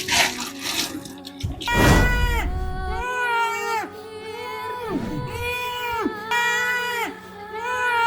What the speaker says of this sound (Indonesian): Kok seperti dengar suara anak bayi ya?